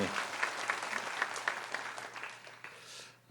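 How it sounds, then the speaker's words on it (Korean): A church congregation at a Sunday morning worship service applauds the musicians, a short burst of clapping with a few sharper claps standing out, fading toward the end and followed by a louder noise. "우리 연주자들에게도 한번 박수해 주십시오"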